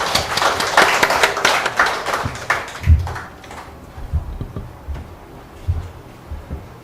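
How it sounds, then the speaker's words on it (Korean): A short burst of clapping from a group at the start, which fades within a few seconds into scattered taps and shuffling. "우리 박수로 맞이하겠습니다."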